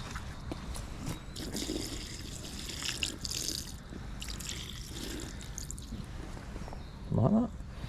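Water trickles and splashes steadily while a carp angler rinses bait off a flat method feeder, with a brief louder pour near the end.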